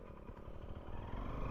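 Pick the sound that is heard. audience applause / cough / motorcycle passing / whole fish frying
motorcycle passing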